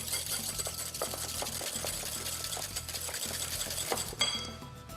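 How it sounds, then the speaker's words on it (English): Whisking egg yolks in a bowl: rapid, rhythmic clicking strokes of a whisk against the bowl, close and fairly quiet, ending with a brief clink. "Now give that a really nice whisk."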